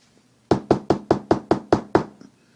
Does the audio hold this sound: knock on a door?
yes